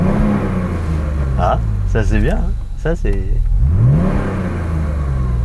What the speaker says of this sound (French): On a le moteur qui est bien présent là.